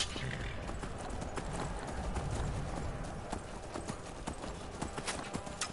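Quick, irregular hoof clip-clops patter throughout, close and crisp, a horse in the video game Skyrim moving at a brisk pace with no talking.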